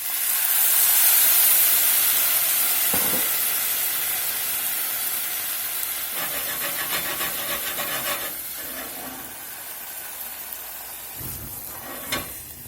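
Bourbon poured into a hot pan of browned ham and stuck-on fond, for baked beans, sets off a loud hissing sizzle that slowly fades. Scraping sounds and faint pops follow.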